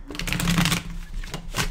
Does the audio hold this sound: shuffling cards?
yes